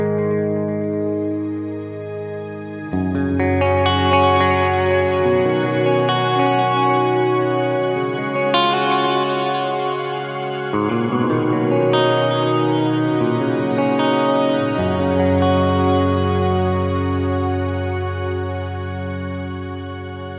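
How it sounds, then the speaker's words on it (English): An Ursa Major shimmer reverb on a Fractal Audio FM9 processor turns guitar chords into a lush, sustained ambient wash, with new chords swelling in every few seconds and a long, bright tail. Nothing else is heard. "that's like a nice shimmer effect there, just for some ambient stuff if you should want it"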